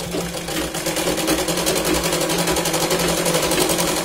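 A sewing machine runs continuously, stitching a Punjabi dress with a fast, even mechanical rattle close to the microphone and no pauses or voices.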